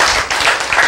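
An audience at a sermon bursts into a short, dense round of clapping, close and loud, with no talking over it.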